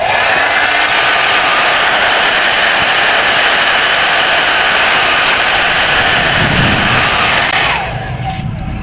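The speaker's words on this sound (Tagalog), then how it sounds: "ginamitan natin ng hair dryer" Loud, steady hiss of a hair dryer blowing hot air close by for several seconds to heat and dry out moisture in a device under repair, then cutting out near the end.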